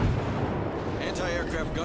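Naval cannon fire from warship guns in World of Warships, rumbling bursts and booms layered together with dense in-game battle noise throughout.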